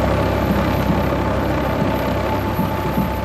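A helicopter drones steadily, its rotor and engine making a continuous mid-level roar with a faint rhythmic beat, unbroken and fairly loud throughout, with no speech.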